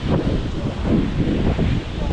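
Wind buffets a microphone on a sea beach at Vengurla on the Konkan coast, a steady, loud low rumble that covers any surf underneath, continuous throughout without a break.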